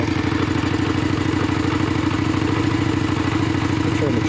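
A Yamaha Virago 535 V-twin with modified exhaust pipes idles close by, a loud, steady, lumpy burble with a fast even pulse and slight mechanical clatter, unbroken throughout.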